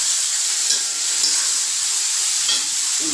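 Noodles fry in a pan at home, giving a steady, close hiss and sizzle with faint stirring scrapes.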